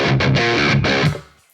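A prog metal electric guitar runs through a Rockefeller amp with fuzz, playing a short, choppy burst of heavily distorted notes and chords that rings out and decays in the last moments.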